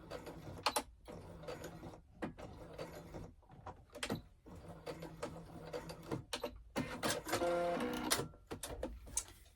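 A sewing machine stitches a small fabric pocket prayer pouch, backstitching to secure the seam: short whirring bursts of stitching broken by pauses and light clicks, close and moderately loud, with no talk.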